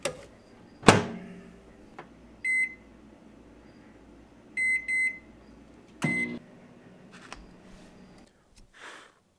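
An appliance hums quietly while a door thuds shut, then a few short electronic beeps sound in small clusters, separated by clunks and silence.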